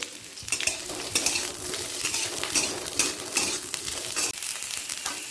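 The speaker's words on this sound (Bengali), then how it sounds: "কড়াতে সর্ষের তেল দিয়ে প্রথমে কপিটাকে হালকা করে ভেজে নেব" Cauliflower fries in mustard oil in a wok, with a steady close sizzle broken by repeated scraping and clinking as a utensil stirs the florets against the metal.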